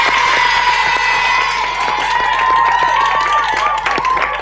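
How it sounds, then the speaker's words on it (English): Audience at a 1991 children's television show applauding a juggling act, steady dense clapping mixed with cheering and children's shouts throughout. "Give him a big round of applause."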